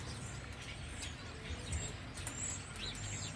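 Birds in trees give scattered chirps and tweets at a distance, faint over low background rumble.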